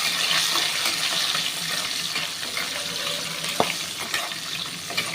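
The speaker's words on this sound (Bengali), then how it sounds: "ছোলা বাদামগুলোকে আমি একটু ভেজে নেব।" Chickpeas and peanuts frying in a pan over a low flame, a steady close sizzle with watery crackle and occasional stirring clicks and one sharp knock midway.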